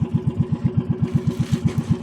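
A fishing boat's motor runs at a steady idle, its close, loud engine putting out a regular throbbing pulse with a faint rattle and no voices.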